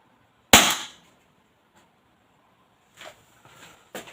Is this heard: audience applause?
no